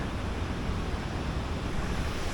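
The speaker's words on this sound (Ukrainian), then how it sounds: "Води видно багато, вода багато скидується, шумить конкретно." Water discharged from a reservoir rushes and roars in a loud, steady, broadband wash, with no breaks and no voices.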